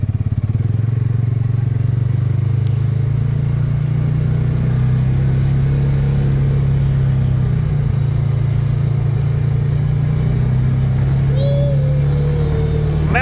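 A Polaris Ranger 570 utility vehicle engine, recently repaired after fire damage, drones steadily at high revs throughout, a continuous buzzing hum with faint clatter, heard close up while moving.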